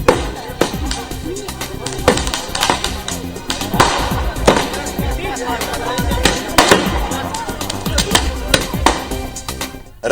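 Fireworks and firecrackers going off outside a BJP party office during a celebration, a rapid irregular string of sharp loud bangs and crackles over crowd noise.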